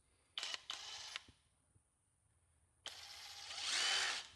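A brushless cordless power tool, a drill-type tool that sounds less healthy than another, whirs in two short bursts, falls silent, then runs for a longer stretch, rising in pitch and loudness toward the end.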